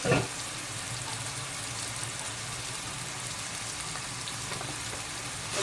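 Onions frying in a pan for keema give a steady, moderate sizzle that holds evenly throughout with no voices.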